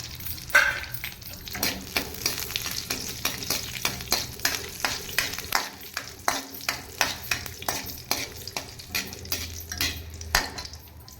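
Cashews roasting in ghee in a hot pan for coconut laddu, with a steady sizzle and repeated close scraping and clinking of a spoon against the pan throughout, no voices.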